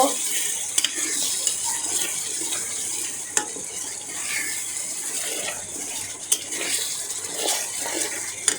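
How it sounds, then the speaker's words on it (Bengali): Shrimp go into spiced oil for a cucumber and shrimp curry, sizzling steadily as a spoon scrapes and clinks against the pan, with sharp knocks now and then. "আমি এখন এর মধ্যে চিংড়ি দিয়ে দিলাম। চিংড়িটা দিয়ে একটু কষায় নিব।"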